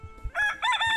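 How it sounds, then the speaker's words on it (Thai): A rooster crows once, close and clear, in a quiet remote countryside area surrounded by mountains, the short call rising and breaking. "เสียงไก่ขัน"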